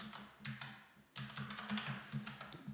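Fingers type on a computer keyboard nearby in quick, irregular bursts of key clicks, with a short pause near the middle of the run and no talking.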